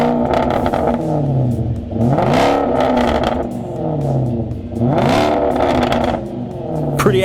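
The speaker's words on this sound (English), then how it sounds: "Now, how does the new exhaust system sound?" A deep Range Rover V8 engine revs repeatedly through a loud performance exhaust, rising and falling in long swells with a throaty rumble, close and alone.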